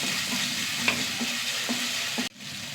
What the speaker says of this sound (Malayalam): ഉള്ളി ഇഞ്ചിയൊക്കെ ഒന്ന് മൂത്ത് വരട്ടെ